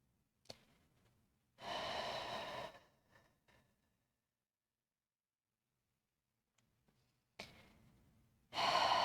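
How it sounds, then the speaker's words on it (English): Slow, deep breaths during a hatha yoga balance pose, two long airy exhales separated by quiet, close and soft with a faint click between. "Two more breaths."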